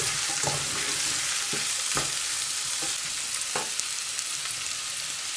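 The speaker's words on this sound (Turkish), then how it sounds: "havucumuzu da ekleyelim. Baharatımızı katalım. Karıştırın." Carrots and spices stirred in a cooking pot for a chicken and pea stew: a steady, close sizzle runs throughout, broken by several soft scraping strokes of the spoon against the pot.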